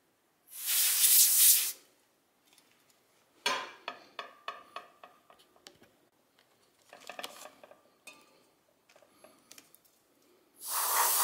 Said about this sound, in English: I spray it once again